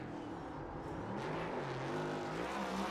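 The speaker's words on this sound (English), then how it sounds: "these next gen cars sound so good when they're doing burnouts" A next-gen NASCAR stock car doing a burnout in iRacing at Charlotte Motor Speedway, a sustained droning engine roar with wavering pitch, heard moderately distant and steady throughout.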